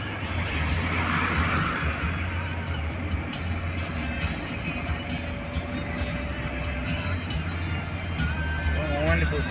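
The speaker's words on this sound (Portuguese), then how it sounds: "Dá passagem pra esse carro aqui, vamos ver se passa." A car passes on the busy BR-135 highway near Curvelo, Minas Gerais, heard from inside a moving vehicle as a steady road and engine rumble with a brief whoosh, while someone talks over it.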